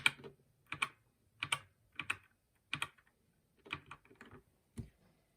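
Key presses on a GK61 version 2 mechanical keyboard, a string of crisp, close clacks arriving in short clusters with brief pauses between them, heard alone.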